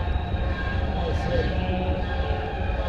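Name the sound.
train noise on nearby railroad tracks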